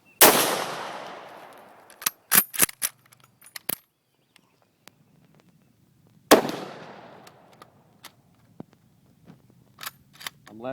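Two loud, sharp rifle shots from a Mosin Nagant 91/30 fitted with a muzzle brake, fired several seconds apart outdoors, each with a fast-decaying blast, followed by faint clicks and handling noises in between.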